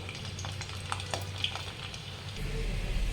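Garlic cloves and fenugreek seeds frying in warm oil for mango pickle, a steady soft sizzle with light stirring clicks and scrapes, growing a little louder toward the end.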